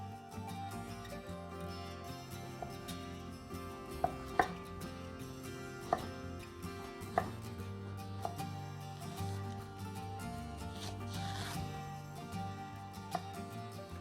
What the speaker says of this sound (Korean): 새송이 버섯 반개 잘게 잘라주시고요